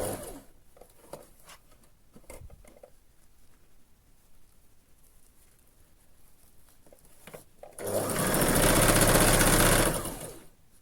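A sewing machine stitching fabric string with white thread, a few faint taps and clicks first, then one loud, rapid whirring run of stitching lasting about three seconds before it stops.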